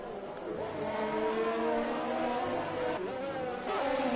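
Formula 1 race cars roar through the Belgian GP at Spa in a racing video game, engine notes rising and falling as they accelerate along the straight, with a brief dip in pitch before the revving builds again.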